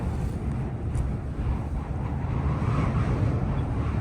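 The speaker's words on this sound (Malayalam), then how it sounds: "കാറ്റ് ഭയങ്കരമായിട്ടുണ്ടേ," Strong outdoor wind roars steadily and loudly against the microphone, a continuous low rushing buffet with no pauses.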